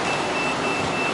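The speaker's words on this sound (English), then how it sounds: "Beeping the alarm for the back door." The back-door alarm of a 2008 Champion Challenger bus beeps while the door is open. It is a steady high electronic tone heard close up over a constant background hum inside the bus.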